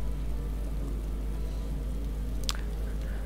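Rain falls steadily in the survival game DayZ, a dense, even hiss throughout with a low rumble beneath and one brief sharp click near the end.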